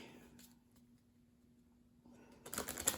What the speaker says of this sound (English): We'll shuffle up the deck.